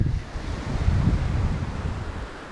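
Strong wind buffets the microphone with a steady low roar, waves and surf rumbling underneath, no voices.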